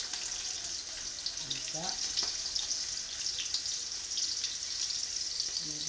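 Onions fry in a hot pot with a steady, close sizzle throughout, broken by faint stirring scrapes, and a few brief spoken words come over the sizzle.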